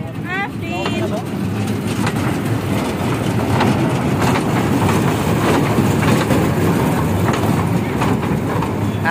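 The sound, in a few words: train ride at Patenga sea beach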